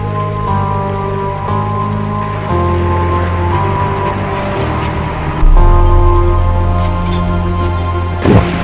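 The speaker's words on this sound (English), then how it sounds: "what you just heard there is one of the official farm round sounds." An official farm round sound from the game Return to Transit: a steady, dense layered tone with a hissing, rain-like texture, a few shifts in pitch and a louder swell near the end, with no voices.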